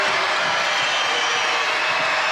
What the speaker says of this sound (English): Crowd getting noisy right now.